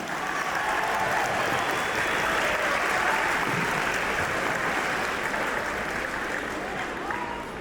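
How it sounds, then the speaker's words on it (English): A crowd gives sustained, dense applause for coaches at a sports team's championship ring ceremony, steady and loud throughout with some cheering mixed in. "Let's give a round of applause for Coach Saunders and Coach Hill."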